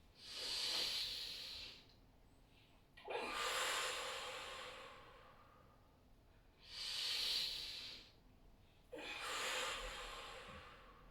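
Slow, deliberate breaths during a back-strengthening exercise: loud, close inhales and exhales alternate in a regular rhythm, each a long airy hiss lasting a couple of seconds.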